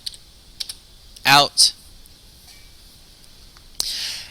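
A few scattered keystrokes on a computer keyboard sound close, separated by gaps, alongside brief bursts of other noise and a short hiss near the end.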